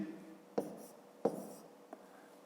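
A pen taps and scratches on paper in three short, sharp strokes while a math answer is written down, each stroke close, isolated and quiet.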